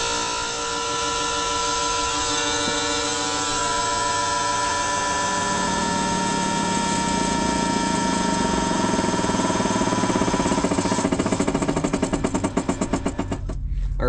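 A new bearing being squished onto a shaft with a short-stroke shop press during repairs on an off-road rig, a steady mechanical grinding and whirring hum that builds and turns into rapid rhythmic chatter near the end, with no talk.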